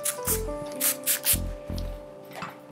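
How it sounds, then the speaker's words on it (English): A few short hissing bursts of Tresemme heat protectant aerosol sprayed on hair, close up, separated by brief pauses, with a faint tonal hum underneath. "I'm going to get my Tresemme heat protectant spray and then spray in the"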